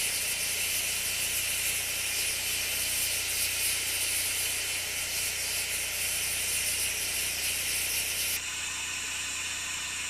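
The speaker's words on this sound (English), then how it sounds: "As she warms up to operating strength, excess steam is blown through her system." Steam locomotive on the Sumpter Valley Railway blowing off excess steam while warming up, a loud, continuous roaring hiss held for about ten seconds that drops slightly near the end, with no talk.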